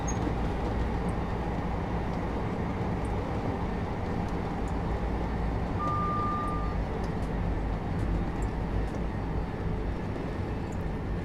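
A Thameslink Class 700 electric train running in Train Sim World 3, a steady continuous rumble of wheels and motors with a faint tonal whine partway through, no talking.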